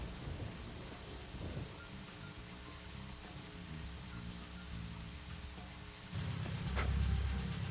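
Continuous rain in Deadly Premonition falls as a steady hiss, then a heavy thunder rumble rolls in loudly near the end, with a sharp crack just after; no one speaks.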